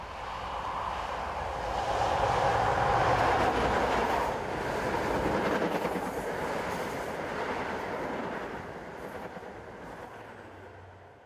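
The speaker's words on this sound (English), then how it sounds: "This is a Plymouth to Edinburgh service heading along the coast at Dawlish." HST diesel express on a Plymouth to Edinburgh service running along the coast at Dawlish, a steady rolling rumble that swells and then slowly fades as it passes.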